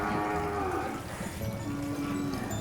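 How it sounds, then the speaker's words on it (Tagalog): A water buffalo lets out a long, low moo, loud and drawn out, followed by another lowing call over a noisy outdoor background. "Ang bagsik sa kalabaw."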